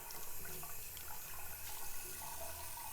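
Warm water runs steadily from a sink tap as hands are wetted, a continuous close splashing hiss with small shifts as the hands move under the stream.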